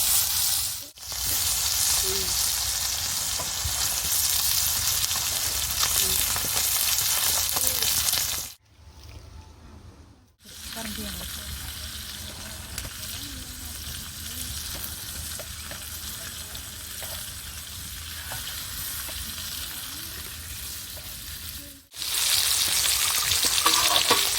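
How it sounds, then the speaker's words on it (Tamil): Masala-marinated kal meen fish frying in oil on a hot stone tawa gives a loud, dense, continuous sizzle close up, broken by two brief pauses, with no voices. "எண்ணெய் விட்டுட்டு மீனை போட்டுக்கலாம்."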